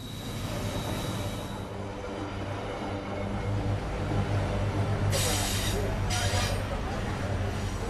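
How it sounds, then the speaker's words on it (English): A heavy ore-laden freight train rumbles steadily past at close range in Brumadinho, Brazil, a deep continuous roar with brief metallic screeches partway through. "the freight train rumbles through, laden with ore"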